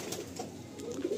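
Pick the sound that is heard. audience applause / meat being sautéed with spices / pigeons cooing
pigeons cooing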